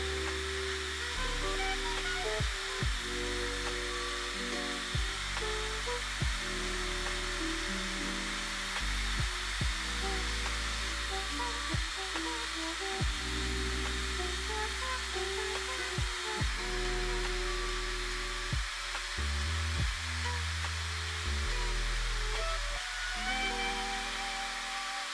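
A blow dryer with a colour-changing ring light runs steadily and loudly with a constant airy roar and motor whine, its pitch shifting slightly at times.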